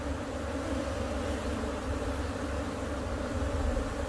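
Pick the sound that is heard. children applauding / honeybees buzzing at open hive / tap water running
honeybees buzzing at open hive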